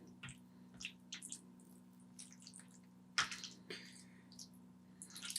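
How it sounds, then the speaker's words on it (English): Velveeta cheese bowl lasagna with meat sauce stirred with a spoon, giving soft wet squishing and scraping sounds in irregular bursts, close and fairly quiet over a steady low hum. "Now we stir this."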